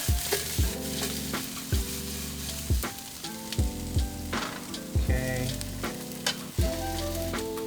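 Eggplant stir fry sizzles steadily in a hot pan, with recurring scraping and tossing strokes from a utensil breaking through the constant frying hiss.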